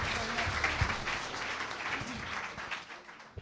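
A church congregation claps and cheers in praise of God during a French-language sermon, steady applause with scattered voices underneath throughout.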